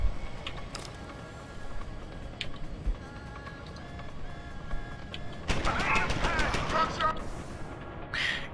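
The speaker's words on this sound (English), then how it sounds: "Gunshots indeed." Bursts of gunfire in the video game Deus Ex: Human Revolution, with scattered shots giving way to a dense rapid volley near the end over a busy game soundscape.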